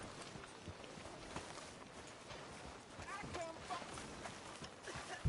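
Horse hooves clip-clop at a walking pace in a Red Dead Redemption 2 town street, steady and moderately close, with a voice talking over the hoofbeats.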